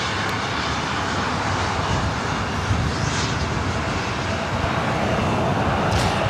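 An Alaska Airlines jet at LAX rumbles past in a loud, sustained engine roar that stays steady and close throughout, with no talking.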